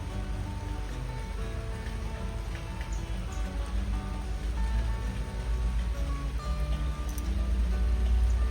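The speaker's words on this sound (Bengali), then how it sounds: "অল্প অল্প বৃষ্টি হচ্ছে" Light rain falling outdoors under a cloudy sky, a soft continuous patter of drops on surfaces that swells slightly toward the end, faint and steady with no voices.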